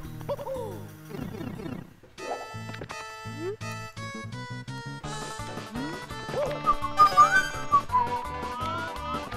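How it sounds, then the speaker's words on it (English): A person whistles a series of short, varied melodic notes and slides near the microphone, with faint game music and sounds underneath. "I really shouldn't whistle."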